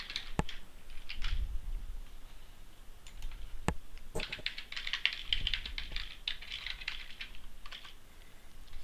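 Computer keyboard typing while entering a username and password at a login screen, a steady run of close, quiet key clicks with short pauses and a few sharper taps, no talking.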